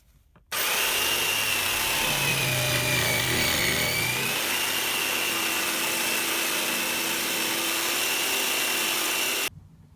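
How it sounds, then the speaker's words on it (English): A jigsaw cuts a square hole in a 2x4 timber board for a bird table post. It buzzes loud and close in one continuous run of about nine seconds, with the pitch shifting slightly partway through, and no speech. "with the jigsaw I'm just going to cut this square out."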